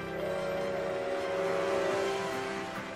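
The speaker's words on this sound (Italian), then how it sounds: "No, è il fischio di un treno." A train whistle in a Matchbox toy-vehicle cartoon gives one steady, sustained tone lasting about two seconds over a continuous engine-like rumble, with no talking.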